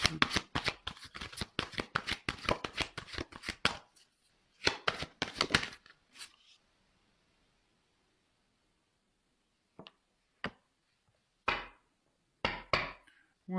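Tarot cards shuffle in a quick, crisp riffling burst, pause, shuffle again briefly, then fall silent before a few sharp single card snaps and slaps as cards are drawn and laid down, close and quiet.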